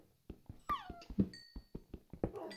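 A Minecraft dog gives a series of short, high whimpers and yips in quick irregular bursts, with a thin whining tone between them, close and clear in a game with no talk over it.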